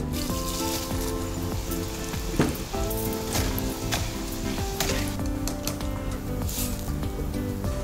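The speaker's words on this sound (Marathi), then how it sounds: "हे पोहे असे मस्त खरपूस तळून किंवा भाजून घेऊया." Wet soaked poha frying in a pan until crisp, giving a steady, dense sizzle that stays loud throughout with a brief stir-like clatter near the middle; no voices.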